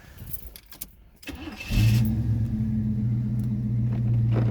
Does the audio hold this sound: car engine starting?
yes